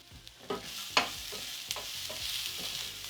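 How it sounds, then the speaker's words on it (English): Ginger garlic mix sizzles in a pan with browned onions for a prawn masala, with a steady fry hiss broken by a few sharp stirring scrapes and clinks. "I'm going in with the ginger garlic mix."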